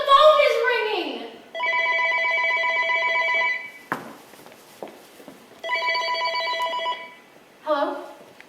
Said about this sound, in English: Oh my God, Ken, the phone is ringing!